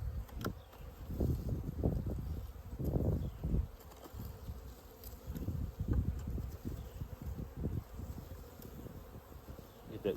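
Honey bees inside a winter hive give a steady, close insect hum, with buzzing swells and bumps throughout and no talking.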